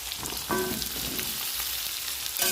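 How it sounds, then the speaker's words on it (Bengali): Potatoes with long beans and garlic frying in a pan, a steady dense sizzle running throughout with a brief stir or scrape near the start and a louder crackle at the end. "বরবটিটা হালকা করে ভেজে নিয়েছি, এবার আলুটা দিয়ে দেবো"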